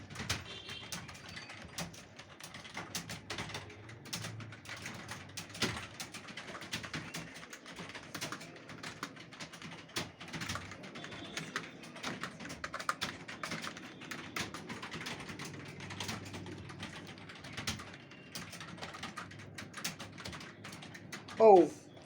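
Students practise typing on computer keyboards in a classroom, a steady stream of faint, quick key taps running throughout, with low background murmur and a brief louder sound at the very end.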